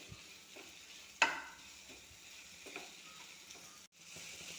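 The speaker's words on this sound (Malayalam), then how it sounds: "വഴുതനങ്ങ അതിലോട്ട് ഇട്ട് കൊടുക്കുകയാണ്" Brinjal frying in oil in a pan while being stirred, a soft, steady sizzle with one sharp clink of the spoon and light scraping, quiet and close, with no talking.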